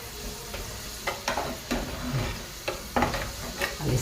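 Onion fries with red pepper and tomato in a clay pot, a moderate sizzle with intermittent stirring scrapes and clicks every second or so.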